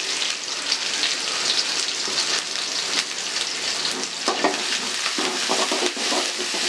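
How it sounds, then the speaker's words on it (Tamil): Onions sauté in a pan, a steady crackling sizzle close by with occasional sharper pops from stirring, continuing evenly throughout. "நல்ல வெங்காயம் வதங்கட்டும்பா."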